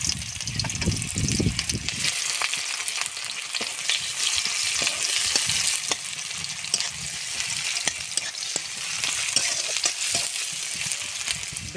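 Chopped onion hits hot mustard oil in a pan with a loud burst of sizzling that settles into a steady, crackling fry, with occasional stirring clicks throughout and no talking.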